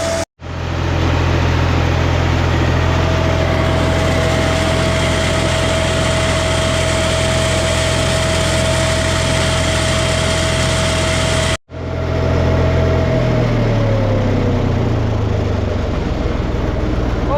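A tractor engine drones steadily and loudly up close in the field during sowing work, broken by one brief cut-out, then winds down near the end.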